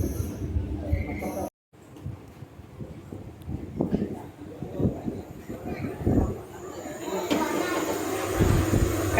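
Rumble of a Chennai suburban local train bound for Tambaram, low steady rail noise with clacking and a brief dropout, voices talking over it throughout.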